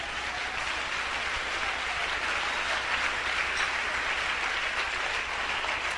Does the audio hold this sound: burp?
no